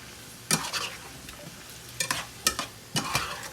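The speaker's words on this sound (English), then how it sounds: "I'll stir this up." A spoon stirs ginger and garlic frying in a pan, with a low steady sizzle and several sharp scraping knocks against the pan, fairly close and quiet, with no voices.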